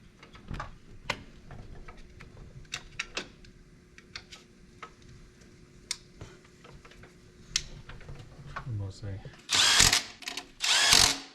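A power drill snugs bolts on a 6.0 diesel engine in short whirring bursts spread across a quiet garage, with faint clicks between them and two louder, longer runs near the end.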